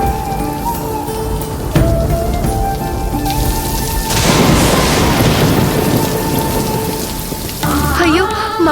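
Heavy rain pours down with rolling thunder, a loud dense hiss of drops with deep booming rumbles swelling through the middle, mixed with some musical tones and other background sounds near the end.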